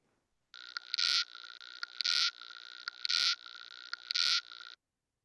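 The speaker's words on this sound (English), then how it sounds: "This is a greater water boatman in upstate New York." A sustained buzzing drone broken by four louder rasping surges at regular intervals, a greater water boatman stridulating underwater close by in upstate New York.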